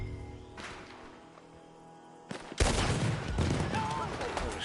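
Gunfire in Red Dead Redemption 2, a sudden loud volley of shots that breaks over a quieter outdoor scene and continues as a rolling barrage of close and distant reports.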